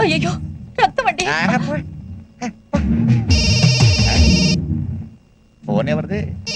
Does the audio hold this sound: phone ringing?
yes